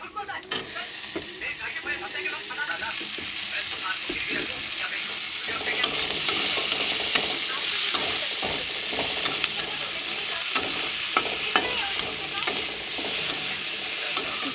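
Tomatoes sizzle and fry in a hot pan with turmeric while being stirred, a steady hiss with scraping and clinking stirring strokes throughout, close and loud.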